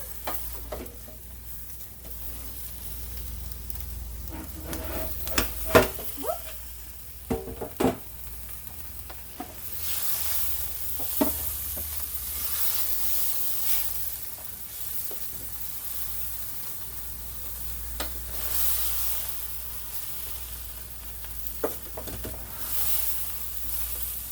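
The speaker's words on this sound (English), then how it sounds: "We're going to mix it all together, and we're basically just going to let that sauce cook down" Beef and broccoli in sauce cooks down in a pan with a steady sizzling hiss. Scattered clanks and scrapes of stirring come through early on, and then the bubbling sizzle carries on alone.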